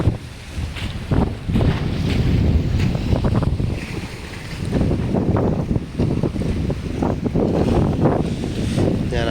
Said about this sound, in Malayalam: ഇത് റിവേഴ്സ് ഈ മൂലയോട് ഇങ്ങോട്ട് ചേർത്ത് അടുപ്പിക്കാൻ വേണ്ടിയാണ് ശ്രമിച്ചുകൊണ്ടിരിക്കുന്നത്